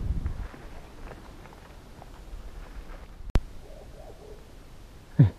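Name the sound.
bird calling in Enggano island forest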